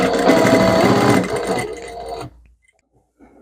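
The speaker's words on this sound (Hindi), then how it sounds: "यहाँ से जो शेप है वही शेप में बस स्टिचिंग करते जानी है" Sewing machine stitching a spaghetti blouse with a steady, loud mechanical whir for about two seconds, which slows, stops and gives way to near silence and a faint rustle.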